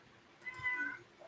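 A cat named Midnight lets out a single short meow, moderately close and fairly quiet, over a faint room hum with no talking.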